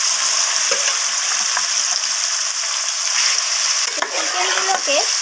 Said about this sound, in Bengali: এরপর আমি ওই একই তেলের মধ্যে ম্যারিনেট করে রাখা চিকেনগুলোকে দিয়ে দিলাম